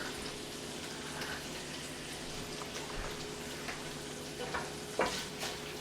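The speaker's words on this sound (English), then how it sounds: "I'm going to add the butter to the bacon and let it melt" Butter melting and frying with bacon in a pan, a steady, fairly quiet sizzle with occasional stirring scrapes and a few louder pops near the end, no talk.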